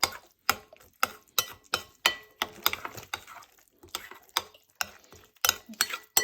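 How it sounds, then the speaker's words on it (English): A spoon stirs sloppy homemade pie filling in a bowl, making a steady run of sharp scraping and knocking strokes, each close and crisp, with brief pauses between them and no talking. "give it a bit of a stir. Make sure it's all properly stirred in."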